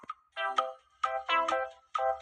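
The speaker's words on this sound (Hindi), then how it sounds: "नाश्ता करते वक्त जेल से एक फोन आता है।" A telephone rings in repeated electronic ringtone bursts, loud and close, with short pauses between each trill and no voices.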